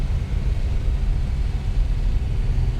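A 1967 Ferrari 330 GT 2+2 Series II V12 accelerating through the gears on a farm road, heard from inside as a steady, loud low rumble with no talk over it.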